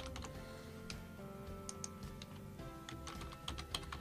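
Typing on a computer keyboard, a run of quick, crisp key clicks in uneven bursts, close and fairly quiet with no talk over it.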